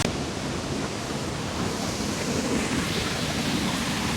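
Snowmelt water rushes steadily down a waterfall and mountain stream in Van, a dense continuous broadband roar close to the microphone with no speech.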